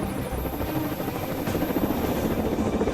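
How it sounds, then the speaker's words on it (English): Marine One and accompanying helicopters approach a small concrete pier landing pad, producing a loud, steady rotor roar with continuous low thumping that holds throughout. "not one, but 4 helicopters must squeeze onto the pad"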